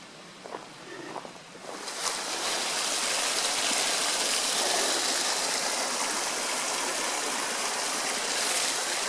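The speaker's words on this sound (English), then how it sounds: "And I think I found water." Stream water flows beside a forest trail in Shenandoah National Park. A few soft footsteps come first, then a steady, close rush of running water fills the rest.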